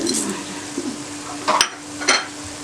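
Spices stirred into softened onions in a pan for keema karela salan, a soft steady sizzle with two louder scraping stirs of a spoon against the pan partway through.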